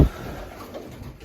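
Pigeons settled in a new loft coo softly and low, a faint, continuous murmur of calls after a brief thump at the start, with no talking.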